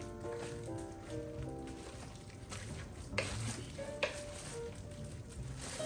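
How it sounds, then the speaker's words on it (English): Spoon stirring food in a pot on a stove turned to low, with soft scraping swirls and faint sizzling, plus a couple of sharp clinks against the pot, close and fairly quiet. "Then you get a spoon. Let's turn this on low. And you're gonna stir all this up."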